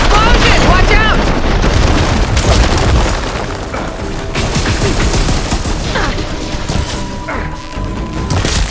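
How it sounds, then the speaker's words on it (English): Big explosion in a video game: a loud, deep boom followed by rumbling blasts and debris clatter, with mechanical whines and scattered gunfire-like cracks continuing throughout. "Hey, big explosion! Watch out!"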